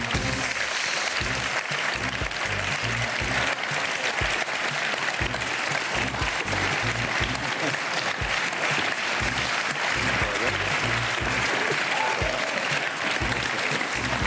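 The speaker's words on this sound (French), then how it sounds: "Sous les applaudissements du public, j'aimerais qu'on remercie mes complices." Sustained applause from a theatre audience rolls on without a break, a thick wash of clapping with scattered crowd noise mixed in.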